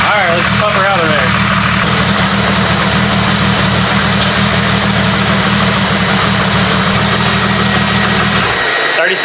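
A Jeep 4.0 engine runs loud and steady up close while its oil is pumped out. The low drone holds evenly and then drops away abruptly at the very end.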